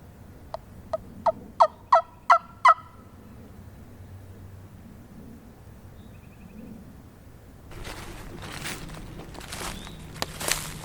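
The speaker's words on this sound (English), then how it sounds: "Well, I just heard one gobble" A wild turkey gobbles in a rapid burst of about seven sharp, rising calls early on public land in Tennessee during spring season, followed by quiet woods and then a stretch of broadband rustling that sounds like footsteps nearby.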